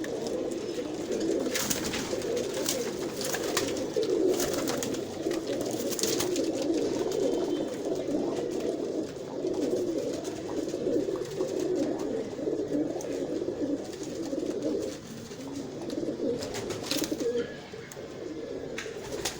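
Red-eyed male pigeons, including Prince Kamgar and Imam Din breeds, cooing continuously in a low, murmuring chorus, with steady rustling and flutter throughout, as if from a crowded loft close by.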